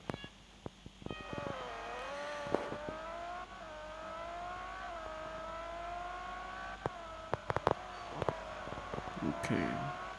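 A Ferrari 599 GTO engine in a racing video game holds a steady, tonal drone that climbs and dips with shifts in revs, broken by brief clicks and bumps, while someone talks over it.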